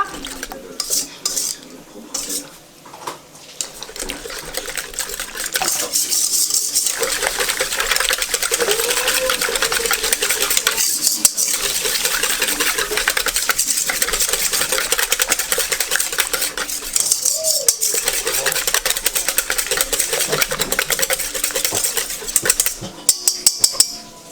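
Ingredients for a Swiss apple tart dough are mixed in a bowl, giving a continuous scraping, stirring clatter with brief pauses and occasional utensil knocks throughout.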